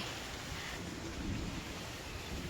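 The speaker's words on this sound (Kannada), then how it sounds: "ಒಂದು ವೇಳೆ ಮಳೆ ಬರೋ ಸ್ಟಾರ್ಟ್ ಆಯಿತು." Soft, steady rainfall with a low, rolling rumble of distant thunder underneath, fairly quiet and continuous.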